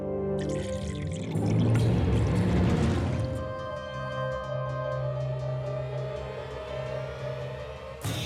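Water poured out for drinking, a splashing pour for about two seconds indoors, followed by quieter trickling and a steady background hum.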